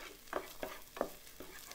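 Tomato paste cooking in hot oil in a pan gives a soft, low sizzle with a few quiet stirring scrapes spaced out, close but faint.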